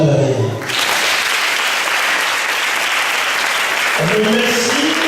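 A church congregation at an Advent Sunday Mass breaks into loud, sustained applause, a dense wash of clapping that fills the space for several seconds, with a voice speaking briefly before and after it.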